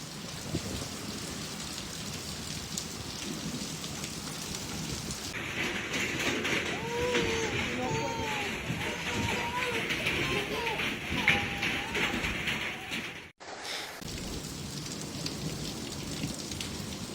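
A hailstorm with heavy rain pelts down steadily in Texas, a dense constant roar with ice striking hard surfaces. Birds chirp faintly through the middle stretch, and there is a brief dropout near the end.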